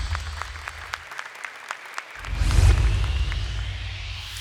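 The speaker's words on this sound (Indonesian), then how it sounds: "Boleh tepuk tangan untuk Zubair Gresik" A studio audience gives applause for Quran recitation contestant Zubair Gresik, starting as a few scattered claps and then swelling into a fuller round of clapping before easing off.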